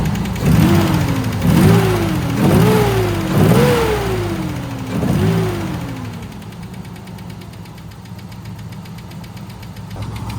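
A revived Nissan 300ZX engine, freshly brought back to life, runs with a rough, pulsing rhythm of several rising-and-falling revs, then settles into a steadier, quieter idle.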